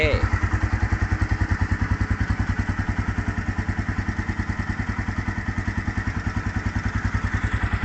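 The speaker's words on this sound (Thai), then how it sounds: "เดี๋ยวลองมาสตาร์ทนะครับ ติดเครื่อง" A Honda Phantom 200 custom motorcycle, parked for about a year, runs after starting with a loud, close, steady thumping idle of rapid even pulses that holds throughout.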